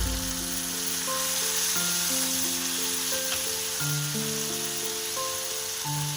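Ground onion paste sizzles in a frying pan over already browned onions, making a steady, broad hiss that carries on throughout beneath gentle background music, with no one speaking.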